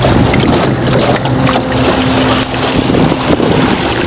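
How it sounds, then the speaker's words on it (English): A small electric motor boat heads out on Tempe Town Lake, a steady close hum and motor whine under heavy wind buffeting on the microphone and splashing water. "And us heading out in our little electric motor."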